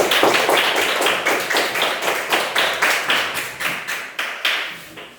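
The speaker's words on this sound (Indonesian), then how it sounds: "Berikan tepuk tangan." A classroom group claps after presenting its discussion results, a few hands beating together in a steady rhythmic series of distinct, fairly loud claps that fade slightly toward the end.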